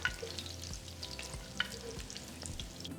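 Pork ribs fry in a pan, a steady dense sizzle with occasional louder pops and spatters as the pieces are moved about, close and continuous with no talking.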